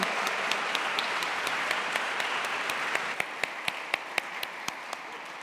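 An audience applauds at a church forum, a steady dense wash of many hands clapping, moderately loud, with a few sharper individual claps standing out toward the end.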